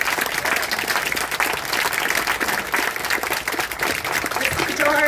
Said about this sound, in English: Let's give George a last round of applause and a standing ovation.